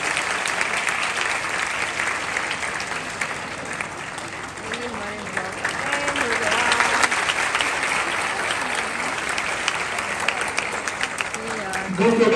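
Audience applause for the Mufti sahib at a gathering, continuous dense clapping sustained for the whole stretch with a voice speaking over it at times.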